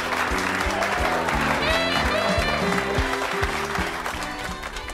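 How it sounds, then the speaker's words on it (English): Studio audience applauds the contestants on a cooking game show, a dense steady clapping wash under a bouncy music bed that carries on for several seconds before fading slightly. "a big round of applause for today's contestants, Jack and Liz"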